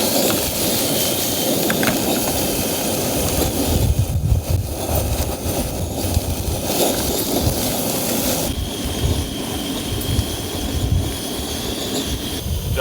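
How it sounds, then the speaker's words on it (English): Strong, continuous wind gusts roar and hiss across an open campsite beside a small camper van, loud and unbroken for the whole stretch. "all of a sudden the wind's picked up"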